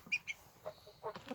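A hen perched in a henhouse at closing time, giving a few soft, faint clucks in short separate bursts, quiet and close, with no talking.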